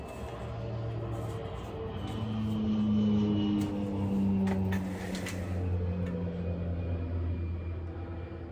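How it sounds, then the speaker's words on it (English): An airplane passes over a house in winter, a low, steady droning rumble that swells gently toward the middle and lingers, heard from a distance and indoors with no talking. "That was an airplane going by at my house."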